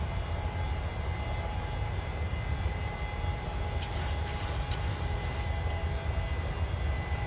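Steady, loud roar of PMDG 737-900ER jet engines at climb power in Microsoft Flight Simulator, a continuous broadband drone with low rumble throughout and faint high clicks near the end.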